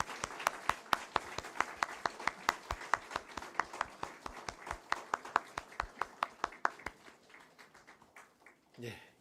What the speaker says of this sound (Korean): 뜨거운 박수 인사하겠습니다